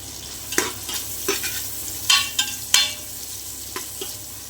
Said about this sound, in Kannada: ಈರುಳ್ಳಿ ಫ್ರೈ ಆಗಬೇಕು, ಬ್ರೌನ್ ಕಲರ್ ಬರಬೇಕು ಈರುಳ್ಳಿ.